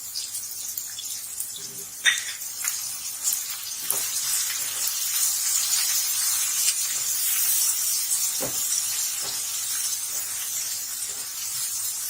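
Masala with salt and turmeric sizzles and fries in a pan while a spoon stirs it, a steady close hiss broken by occasional scrapes and clinks, no voices.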